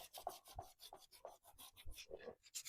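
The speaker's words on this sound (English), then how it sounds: "I'm not sure if it'll sand at all because it's resin" Sandpaper rubbing over a resin juggling pin in a series of quick, rhythmic rasping strokes, faint and close, with no voices.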